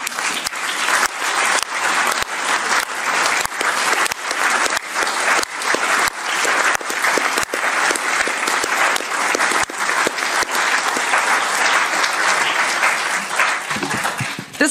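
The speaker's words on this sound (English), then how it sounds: "I really thank you and I applaud you, and I will do so right now." Sustained applause with dense, continuous clapping from a crowd carries on for about fourteen seconds at an even, loud level before tapering at the end.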